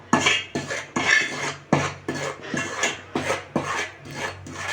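Raw rice flour being dry-roasted in a pan for chilli chicken: rhythmic, close scraping and rasping strokes of a spoon against the pan, about two per second, with no talking.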